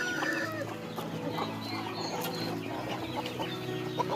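Free-range hens in a coop, several laying birds close by, cluck and murmur in overlapping bursts, a lively continuous farmyard chatter with no talking.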